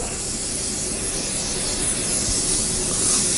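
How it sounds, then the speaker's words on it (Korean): Sebastian hard hairspray is sprayed in one continuous, close, fairly loud hiss lasting about three seconds, with no voices. "이 하드 스프레이, 세바스찬 하드 스프레이를 이용해서"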